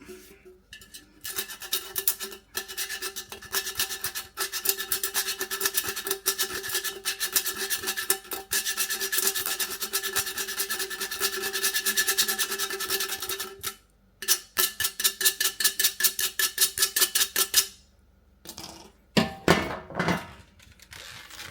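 A part's surface is roughed up by hand abrading before a reassembly. The rasping and scrubbing runs long and continuous, then breaks into shorter, choppy strokes with brief pauses, close and fairly quiet.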